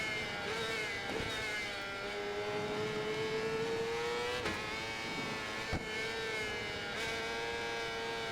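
Motorcycle engine in the racing game Ride 4, a loud sustained whine that climbs gradually in pitch as the throttle is held gently, with a couple of short shift blips and dips along the way.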